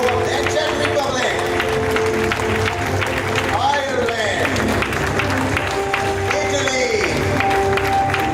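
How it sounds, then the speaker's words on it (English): An audience applauds flag bearers at an international event, continuous clapping and crowd noise running throughout beneath an announcer calling out country names. "Come on, clap hands please."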